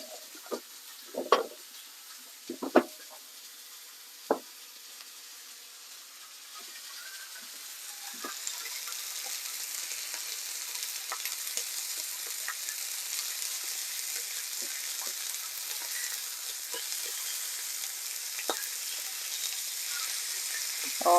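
Steak fries in a pan, starting quietly with a few sharp clunks and taps, then building into a steady, close sizzle that holds to the end with no talking.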